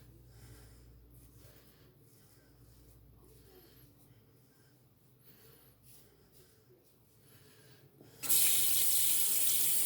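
A faint low hum gives way to a sudden loud rush of warm water from a tap, steady and close for the last couple of seconds.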